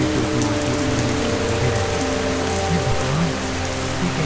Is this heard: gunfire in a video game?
no